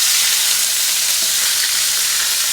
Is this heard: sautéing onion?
yes